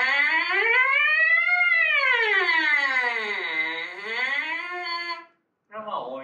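Wind instrument player sounds a continuous siren-like glissando, sliding smoothly up, down and up again like an ambulance siren; the tone is loud and sustained for about five seconds, then a brief short note follows.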